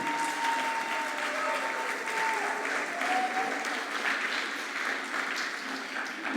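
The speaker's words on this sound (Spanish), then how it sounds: "Más fuerte porque es para Él" Sustained congregational clapping in a church service, urged to grow louder for God, forms a steady, dense roar of many hands with faint voices and a stray whistle-like tone drifting through.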